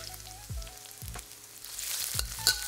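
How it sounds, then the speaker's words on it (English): Garlic and chili pepper stir-fry in a wok, giving a steady close sizzle. A spatula scrapes and knocks against the pan about five times at a fairly regular pace. "We'll stir fry the garlic until fragrant, or about 15 to 20 seconds. Then we'll add the chili pepper."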